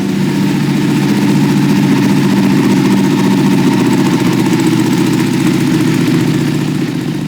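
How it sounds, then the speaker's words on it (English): A Ducati 959 Panigale engine with Van Diemen exhaust pipes runs steadily at a loud, rumbling idle throughout, with a deep, even throb and no talking. "we got the bike running and it sounds insane"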